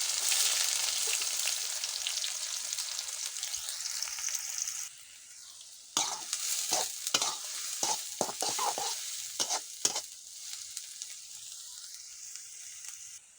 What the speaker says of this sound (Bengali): রসুন পেঁয়াজগুলো মিডিয়াম আছে বাদামি করে ভেজে নেব এবং দিয়ে দিচ্ছি